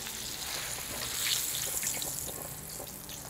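Fried flounder comes out of hot frying oil with a steady, close sizzle that swells briefly partway through and then settles.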